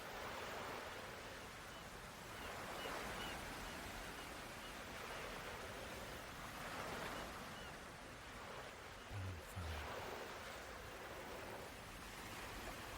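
Soft surf laps against a tropical beach shore in slow, repeating washes, a steady rushing hiss with gentle swells every few seconds and no voices.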